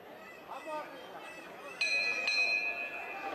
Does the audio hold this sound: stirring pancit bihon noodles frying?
no